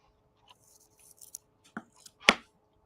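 Scissors snip a few times during a model kit build of an F4U aircraft, giving faint, brief cuts near the mic, with the last snip the sharpest, against a quiet room.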